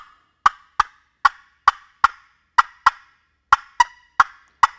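A wooden turkey box call is stroked fast to imitate a hen cutting, giving about a dozen sharp, loud clucks in a quick, slightly uneven rhythm with silence between them.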